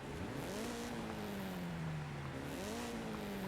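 Car engine in Forza Horizon 5 revving and shifting, a steady droning tone that climbs, dips and rises again through gear changes, loud and continuous with no talk.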